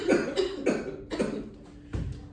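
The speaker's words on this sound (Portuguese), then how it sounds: "Vamos tossir." A partially choking person coughs forcefully four times to expel a lodged object, each a sharp, close burst with short gaps between.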